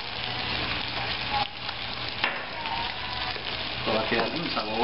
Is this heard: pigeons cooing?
no